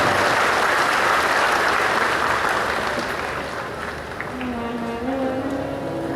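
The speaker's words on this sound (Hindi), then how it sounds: "एक बार ताली बजाकर यजमान परिवार सभी का" Audience at a Shiv Mahapuran religious discourse clapping for the host family, steady dense applause that slowly fades toward the end, with faint voices underneath.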